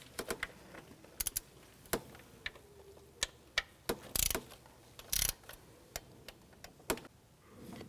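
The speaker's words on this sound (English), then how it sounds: "See if you can get on there with the torque wrench, or just use a wrench" A torque wrench tightens valve cover bolts on a 2003-08 Nissan Maxima with a string of sharp, close ratchet clicks at an uneven pace. Two louder bursts of rattling come in the middle, and nobody talks.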